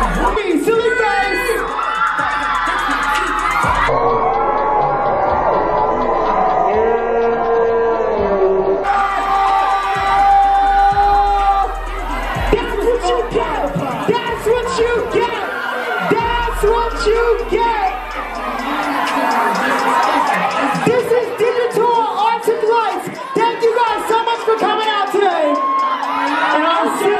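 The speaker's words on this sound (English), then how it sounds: "there's a big crowd. There's a big crowd out there." A big crowd cheers and shouts at Nickelodeon Universe amusement park, with high-pitched whoops and screams rising and falling for nearly half a minute over a low background hum.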